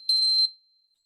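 A hand-held bell is struck once and gives a bright, high, clear ring that stays steady for about half a second and then fades quickly into silence.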